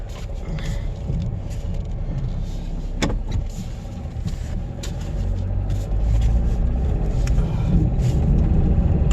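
A car engine hums steadily from inside the cabin while driving, a low continuous rumble with road noise that grows slightly louder toward the end, with small cabin knocks.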